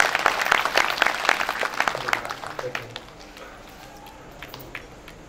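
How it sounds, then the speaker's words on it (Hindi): Audience clapping at a spiritual discourse gathering, a dense burst of claps that is loud at first and thins out over about three seconds, then fades into quiet room tone. "सब लोग ताली बजाओ भाई इनके लिए"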